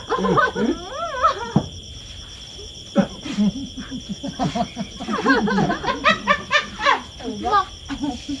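A dog yelps and whines in warbling bursts, close by, while people talk and laugh around it.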